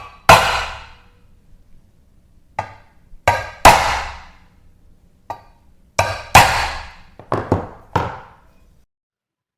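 A center punch strikes an iron workpiece in sharp, separate metallic hits, about nine in all, spaced irregularly with quiet gaps between them and no talking.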